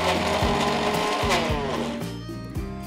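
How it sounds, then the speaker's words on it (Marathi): A kitchen mixer grinder whirs loudly, grinding a thick spice paste with no water, its motor pitch repeatedly dipping and climbing as the dry mass catches and releases, then easing off slightly near the end. "पाण्याचा अजिबात वापर न करता हे मिक्सरमध्ये फिरवून घ्यायचं"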